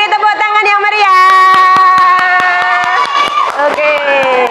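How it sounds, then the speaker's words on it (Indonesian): Rhythmic hand clapping from a classroom of children, steady and fairly loud, with young voices chanting or singing along throughout. "Beri tepuk tangan yang meriah."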